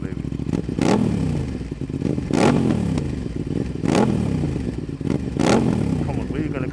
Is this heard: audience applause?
no